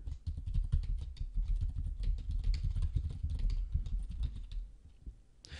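Rapid, steady keyboard typing on a computer keyboard while entering a to-do item, clicking keys close and clear throughout, tapering off near the end.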